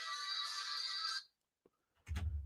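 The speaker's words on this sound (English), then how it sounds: "shout out to my ringtone" A phone ringtone plays a steady bright chime for about a second, then cuts off; after a short silence a dull low thump follows.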